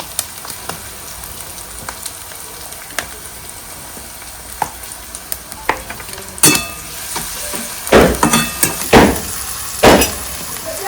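Tomatoes drop into a pan of frying onions with scattered sizzles and clinks, building to louder bursts of crackling and scraping near the end, with the frying hiss underneath throughout.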